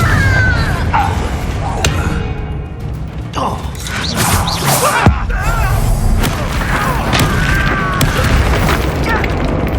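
Explosive Confringo spell blasts from the Hogwarts Legacy video game, a run of booming impacts and crashes amid constant battle noise and game music, with voices speaking over the fight.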